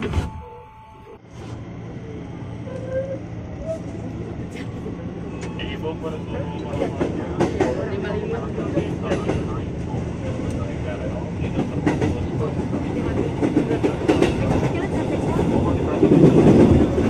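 A KRL Commuter Line electric train pulls out of Depok station, a rising rumble with rail clicks and clatter building over several seconds, heard up close with people talking and a station announcement in the background.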